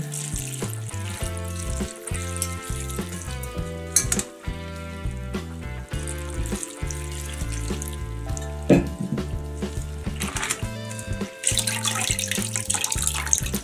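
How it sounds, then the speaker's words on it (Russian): Running water rinses viburnum berries in a steady splashing stream, with a few louder swishes as they are poured and stirred, all under continuous background music. "Теперь нужно еще раз полоснуть ягодки."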